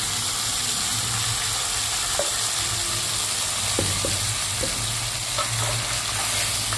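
Tempering spices sizzling in hot oil as they are poured into mashed amaranth greens for arai keerai kadayal, a steady loud frying hiss throughout with a few faint clinks and stirs.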